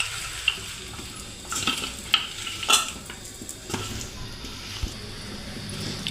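Snack batter for crispy pali chat being mixed by hand with a little water, salt and chili, with soft wet stirring and squishing, occasional clinks of utensil on bowl, close up with no talking.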